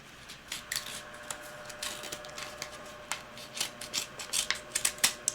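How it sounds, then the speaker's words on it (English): A box cutter slices through packaging with a run of short, crisp scraping snips, quick and irregular, growing denser and louder toward the end, heard close up with no talk. "Yes, this is a box cutter."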